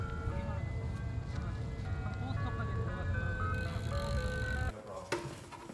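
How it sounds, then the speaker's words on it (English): An ice cream truck chimes its tinkly repeating melody from outside, heard steadily and somewhat distant under background noise until the tune cuts off near the end. "We got an ice cream truck."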